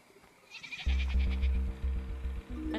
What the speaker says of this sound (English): Another worthless sheep.